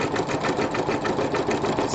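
Sewing machine stitching a rope bowl, with stabilizer backing under the coiled rope riding over the feed dog, running at a steady rapid rhythm, close and continuous with no voices.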